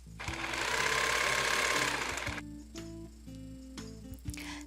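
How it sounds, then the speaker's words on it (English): A sewing machine stitching a double fold hem on fabric, a loud continuous whirring run followed by shorter bursts of rapid mechanical clatter, close up and alone. "and you'll see me sewing that here"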